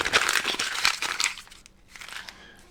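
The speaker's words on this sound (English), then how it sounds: "I'm just rolling up paper. Wadding up paper. Anyway, crumbling paper." Paper is crumpled and wadded up close by in a burst of dense crinkling and crackling that fades, then gives a few quieter rustles at the end.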